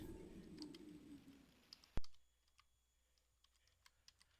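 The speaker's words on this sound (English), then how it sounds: "I'm typing it in chat." Sparse, quiet clicks of typing on a computer keyboard, with one sharp louder key strike partway through, over faint background hiss that drops away afterward.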